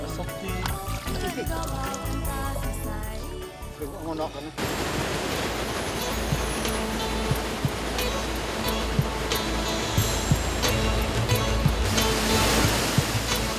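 The fast current of the Mekong River in Laos rushes loudly and continuously, a dense roaring wash of water that swells stronger partway through.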